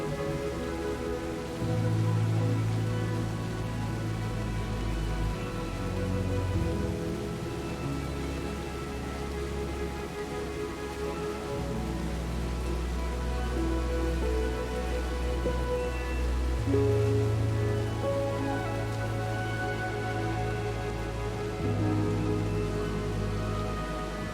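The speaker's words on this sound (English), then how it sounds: "And when it became clear that the rain wouldn't let up" Heavy rain pours steadily on a coffee farm in Bali, a dense, continuous hiss and patter of drops on surfaces with low rumbling underneath, close and loud throughout.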